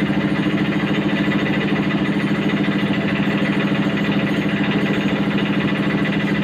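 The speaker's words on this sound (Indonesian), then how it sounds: "Kita mau start mesin potong ya, guys." A cutting machine's engine runs steadily at a worksite in Malaysia, a loud, even, throbbing mechanical drone with a constant rhythmic pulse and no talk over it.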